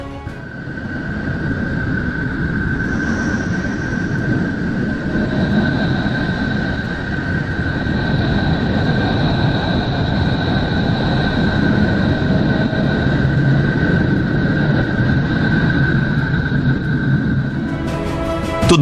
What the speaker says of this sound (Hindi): अब सुनिए वायेजर 2 द्वारा रिकॉर्ड की गई वरुण की रहस्यमयी ध्वनियां।